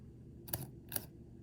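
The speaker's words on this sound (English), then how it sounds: "at the very last when I'm about to release the shutter that the image, I guess the shutter itself seems to speed up" A Leica M11 camera fires its shutter twice in quick succession, each release a crisp close mechanical click in an otherwise quiet room.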